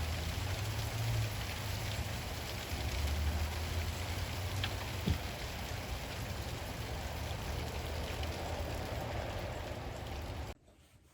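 Steady rain hissing down continuously, a broad even wash of drops with a low rumble underneath, cutting off abruptly near the end.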